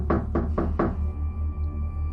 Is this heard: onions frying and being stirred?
no